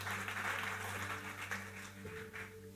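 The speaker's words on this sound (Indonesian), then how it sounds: "Tepuk tangan dulu Bapak Ibu." A church congregation applauds together, a dense sustained patter of many hands over a low hum and held organ or keyboard tones.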